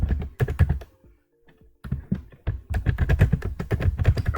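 Rapid typing on a computer keyboard while writing in Google Docs, with close, dense clusters of key taps and a short pause partway through.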